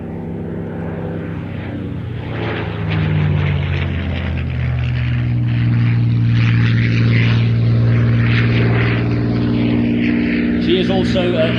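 A Spitfire warplane painted with Soviet red stars roars overhead at an airshow, its propeller engine droning loud and close, the pitch shifting as it passes, while a commentator talks throughout.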